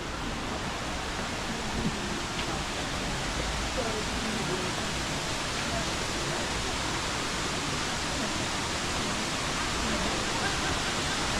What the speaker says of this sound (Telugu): ప్రస్తుతానికి ఈ వాటర్ ఫాల్ చూద్దాం